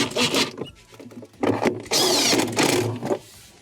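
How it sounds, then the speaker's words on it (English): Screws being tightened during a Whirlpool refrigerator evaporator fan motor repair, short whirring bursts from a power driver close by, separated by brief gaps. "Go through and give them a tighten. Reinstall your two middle screws."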